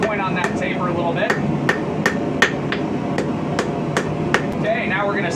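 A blacksmith hammers a square taper into hot metal on an anvil, ringing blows landing in a steady rhythm of roughly two per second, sharp and close over a constant background roar.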